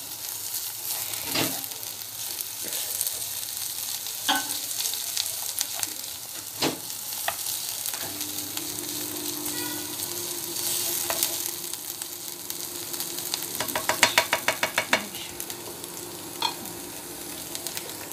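Onions frying in oil in a pan while cooking lasagne, a continuous close sizzle broken by scraping stirs and clattering utensil knocks, with a quick run of taps near the end.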